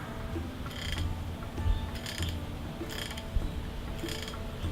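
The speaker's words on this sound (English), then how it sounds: "That is the thread coming off the tip of the spindle." Four quiet clusters of light clicking sound at a steady pace, each a short rapid clip-clip of thread slipping off the spiral-notched tip of a medieval-style yew drop spindle.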